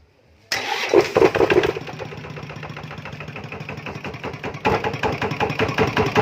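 An engine cranks and catches after a brief starter whir, then settles into a steady, rattly idle close by, revving briefly near the end.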